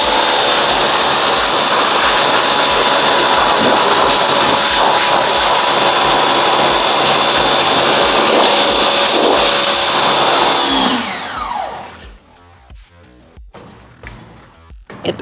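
A garden hose blasts a broadband spray of water over an e-bike, a loud, close, continuous hiss that cuts off abruptly, leaving scattered drips, clicks and handling sounds.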